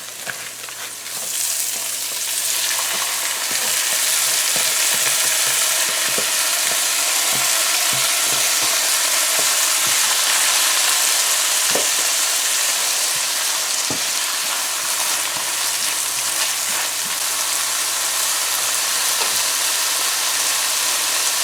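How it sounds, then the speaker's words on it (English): Rice frying with seasonings and onions in a hot pan for veggie fried rice, a loud continuous sizzle that holds steady throughout, with occasional faint taps of a utensil, no talking. "So you want to fry up your rice with your seasonings now."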